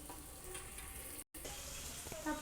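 A vegetable dish cooking in a covered pan, a soft steady sizzle close by and fairly quiet, with a short break partway and faint clinks near the end.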